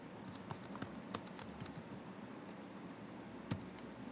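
Irregular keystrokes tapped on an Apple computer keyboard while entering key combinations in a text editor, a steady run of light clicks with a couple of sharper presses, close and alone.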